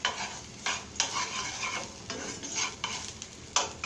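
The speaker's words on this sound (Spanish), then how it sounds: "vamos a sofreír bien, que quede así doradita la cebolla, bien doradita" Chopped onion frying in lard in a pan on the stove, a steady bright sizzle broken by repeated scraping stirs of a utensil, close and fairly loud.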